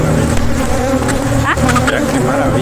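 Honey bees buzz densely around beehives while honey is harvested from the comb, a loud, close, continuous swarm hum with individual insects droning past, and no speech.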